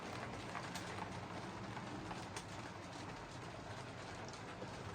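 Model Metropolitan locomotive number 20 runs steadily around a layout, a continuous close rolling rumble and rattle of wheels on track with a faint whirring motor, no talk.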